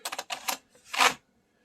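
An old-fashioned computer keyboard being typed on, three quick clattering bursts of keystrokes close by with short gaps between them, with no talk over them.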